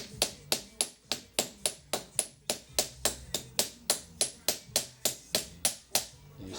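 A hammer strikes a punch to drive the front axle out of a Nuova Faor SF701 nitro bike, a steady series of about eighteen sharp, close metallic taps at an even rhythm.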